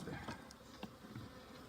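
Faint buzzing of honey bees during a hive inspection, a soft insect hum with a few brief louder buzzes passing close, quiet and without speech.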